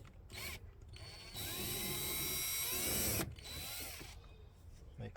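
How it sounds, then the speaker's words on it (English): A power drill fitted with a T30 Torx bit backs out door card screws on a 2009–2014 VW Polo Mk5 front door. Short close motor bursts lead into a steady whining run of about two seconds, then another brief burst. "Got a T30 on the drill here."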